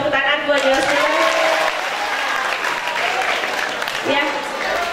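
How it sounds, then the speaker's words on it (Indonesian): Applause from an audience at an Indonesian talk for young people, steady clapping that fills the clip under a speaker's voice, with a brief lull before it swells again near the end. "Kita kasih tepuk tangan buat Yosua."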